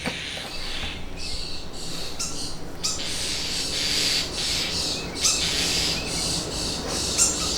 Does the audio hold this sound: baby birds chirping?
yes